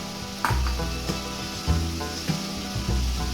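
Bori lentil dumplings drop into a pan of banana flower curry and set off loud, steady sizzling and frying, with a few sharp stirring knocks and clatters along the way.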